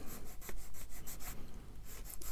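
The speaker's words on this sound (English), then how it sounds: "This is quite a coarse sanding stick, so I'll then go down to a finer grade" A coarse sanding stick rubs across a 1:144 Eduard MiG-21 plastic model kit in a quick series of short, close, scratchy strokes, with no talk.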